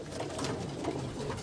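A soft, repeated cooing from an Abluk pigeon kept in a home loft, low and close, continuing steadily with no voices.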